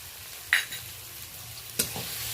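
Ginger paste is stirred into cooked onion and tomato in a pan, with two sharp scrapes of a spoon over a soft, steady sizzle. The sound is close and short, with no talking.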